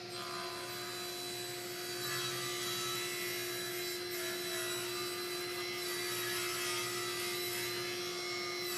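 A powered saw cuts 2x4 wooden boards in half while a dust extractor runs, making a continuous loud mechanical drone with a steady hum and rough rasping texture from start to finish.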